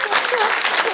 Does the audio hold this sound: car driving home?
no